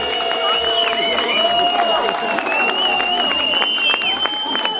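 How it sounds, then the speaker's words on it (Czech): Crowd applause for the category winner at a Czech young-wine festival, steady clapping mixed with cheering and a sustained whistle-like tone, with voices murmuring underneath throughout. "Gratuluji, potlesk pro něj."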